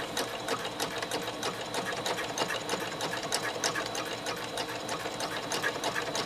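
Sewing machine stitching pleats into folded face-mask fabric, a continuous quick rattling whir of needle strokes, close and steady throughout.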